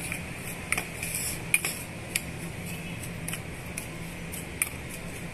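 Snack stuffing for mirchi bajji being mixed with a tablespoon of salt in a bowl, with a spoon clinking and scraping against the bowl in soft, irregular taps over faint background hiss.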